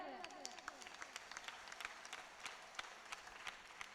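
Audience clapping at a devotional kirtan in Palaj, a quiet, scattered patter of hands that runs through the whole clip without settling into a rhythm.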